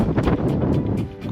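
Gusting wind buffets the microphone on the summit of Hunter Peak in the Guadalupe Mountains, a continuous rough roar with short bursts and no clear speech.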